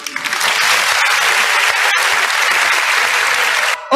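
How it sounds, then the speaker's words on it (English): Loud, sustained applause from an audience at a youth dialogue event in Lagos, a dense wash of clapping that runs for about four seconds and cuts off near the end. "Please, a round of applause for him,"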